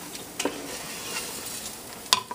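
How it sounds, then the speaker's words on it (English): Risotto rice kernels sautéing in butter with garlic and onions, giving a soft continuous sizzle with a couple of sharp spoon scrapes against the pan, close and alone. "Kind of saute the kernels here."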